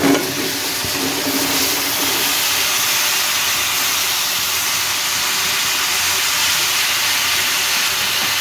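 Turnips and peas go into hot fried masala in a pan, setting off a loud, steady hissing sizzle that holds evenly throughout, close and without talking.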